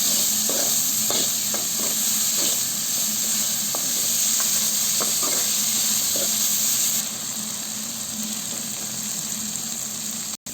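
Tomato and ground chilli masala frying in a pan for a Tamil vathal kuzhambu; continuous close sizzling and hissing with a few soft stirring clicks, then quieter frying near the end.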